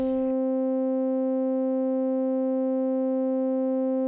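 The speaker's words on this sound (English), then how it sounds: "except now we're making tones." A steady synthesized tone built in nTopology, a strong buzzy fundamental with a stack of even harmonics held unchanging and loud after a brief noisy click at the start.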